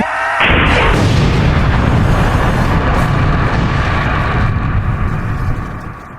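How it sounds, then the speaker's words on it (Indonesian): A sudden loud blast from a heavy gun in the video game Sakura School Simulator, followed by a long roaring rumble that fades slowly over several seconds. "Aku akan menembaknya dari atas sini."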